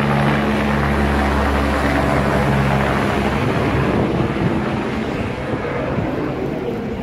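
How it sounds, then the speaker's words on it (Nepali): A helicopter runs very close by near a mountain helipad, its loud, steady engine roar and rotor thrum filling the whole stretch and shifting slightly midway. "यहाँनिर हेलिकप्टर है एकदमै नजिकबाट"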